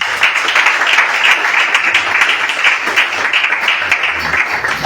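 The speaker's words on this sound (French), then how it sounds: "Acclamez pour vous-même." A church congregation claps and applauds throughout, steady dense clapping from many hands filling the room, with faint voices underneath.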